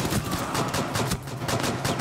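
Rapid automatic gunfire in the tactical shooter Rainbow Six Siege rattles in dense, continuous bursts with sharp repeated cracks, loud and close, no talk.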